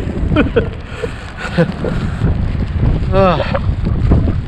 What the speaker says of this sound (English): It's pretty windy and rainy.